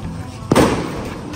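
Deepavali firecracker at an outdoor spicy BBQ party in Malaysia gives one sharp, loud bang midway, followed by a brief rumbling decay over a busy background.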